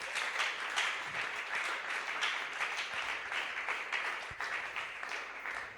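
A church congregation at a Sunday praise and thanksgiving service applauds for Jesus with loud, dense clapping that stays sustained and even from start to finish, with faint voices mixed in.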